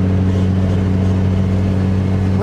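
A Honda Civic wagon's engine hums steadily from inside the car while driving, a loud, even low drone with a faint rising whine at the very end and no talking.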